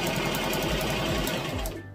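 A sewing machine stitching ribbon onto a tutu skirt, a loud close rapid mechanical chatter running steadily before stopping abruptly near the end, with no talking.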